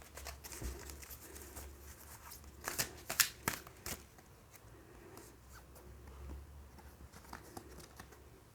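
Tarot cards shuffled close up in a quiet room, a run of soft papery riffles and sharp slaps with a few louder snaps near the middle, going on steadily with no one speaking.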